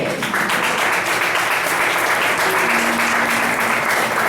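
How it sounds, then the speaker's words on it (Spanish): A church congregation breaks into loud, sustained applause during a sermon, a dense wash of clapping that fills the room steadily from start to finish. "Le damos un aplauso al Señor."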